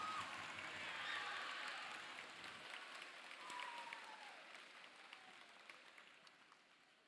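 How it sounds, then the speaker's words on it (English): Birthday applause from a crowd at a school Truth and Reconciliation day event, a broad wash of clapping that swells early and then gradually thins and fades, with a faint voice underneath. "Let's give her a round of applause."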